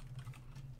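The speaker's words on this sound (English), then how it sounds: "I'm gonna type this out real quick." A short, quiet burst of keystrokes on a computer keyboard, tapped quickly and close by.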